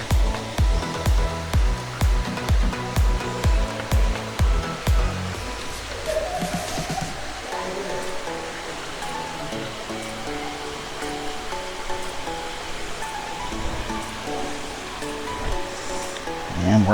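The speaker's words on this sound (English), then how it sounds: "there is a waterfall right there." A waterfall at Old Man's Cave, Hocking Hills State Park, Ohio, rushes in a constant roar nearby. Regular thudding footsteps sound over it for the first few seconds.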